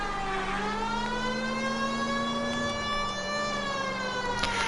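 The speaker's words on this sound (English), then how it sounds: "Turn on the siren." Police car siren in a crime video game, a loud, close, continuous wailing tone that slowly rises and falls in pitch over engine noise, with no talk.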